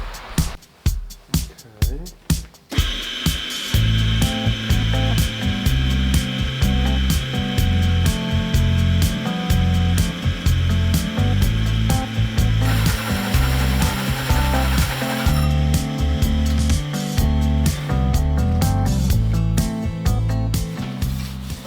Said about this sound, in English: So I'm going to get a drill.